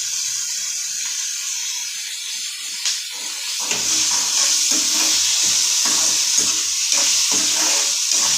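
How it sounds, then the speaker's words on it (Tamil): Tomatoes with a little salt sauté in a pan, a continuous hiss and sizzle that grows louder partway through, broken by repeated stirring scrapes close by. "தக்காளி கொஞ்சம் வதங்கட்டும்."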